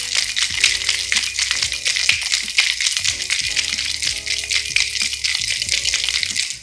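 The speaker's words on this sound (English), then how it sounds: "Then you gotta shake." A martini with ice is shaken in a cocktail shaker, a fast, continuous rattle of ice against the tin over faint background music.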